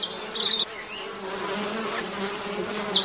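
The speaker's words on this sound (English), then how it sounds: "These are honeybees." Honeybees buzz close by, a soft continuous hum with a few louder passes as individual bees fly near.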